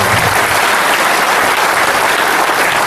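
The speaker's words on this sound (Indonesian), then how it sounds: "Tepuk tangan dulu buat saya." Steady, dense applause from an audience at an Indonesian religious gathering (tabligh akbar) in Incheon, close and loud with no voices over it, holding an even level throughout.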